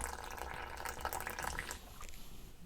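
Water poured slowly into the middle of flour with yeast for manapua dough: a soft, continuous trickle with faint splashy drips, fairly quiet and alone.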